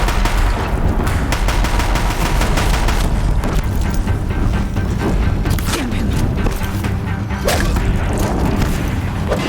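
Deathbringer war machines fire nonstop in a Horizon Zero Dawn battle near a bridge, a dense, loud barrage of rapid shots, booms and whooshing blasts with no pause.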